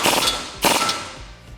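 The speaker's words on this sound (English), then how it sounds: "I'm going to take my 21mm on my impact gun," An impact gun fitted with a 21mm socket tightens a nut while installing a front leveling kit on a RAM 1500, giving two sharp, loud hammering bursts close up that ring briefly and fade.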